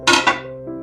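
Pots and dishes clatter while being washed in a home kitchen, two quick close metallic clanks followed by a softer knock, with no talking.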